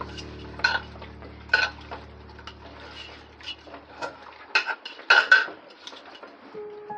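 Raw chicken being mixed and pressed firmly by hand in a bowl, giving soft irregular squelches and clinks of utensils against the dish, close and moderately loud with no talking.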